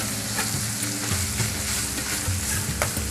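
Pork dry-stir-fried in a pan for Northern Thai nam prik ong gives a steady, close sizzle broken by repeated scraping strokes of a spatula, with no voices.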